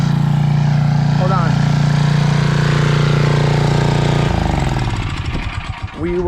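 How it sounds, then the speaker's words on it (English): A tractor running a newly attached brush hog mower to cut grass gives a loud, steady engine drone with a strong low hum, then shifts to a rougher, fluctuating rumble near the end. "Got the brush hog attached. We're gonna go cut some grass."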